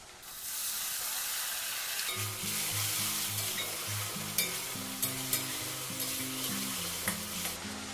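Onions fry loudly with ginger, garlic and green chilli paste for a banana flower curry, a strong sizzling hiss with occasional sharp clinks of a spatula against the pan, while background music plays.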